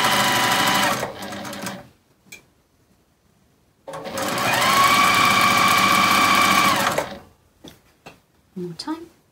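A sewing machine chain-pieces quilt fabric in two loud, close bursts of rapid steady whirring, separated by a pause with light handling noises and brief soft clicks afterward.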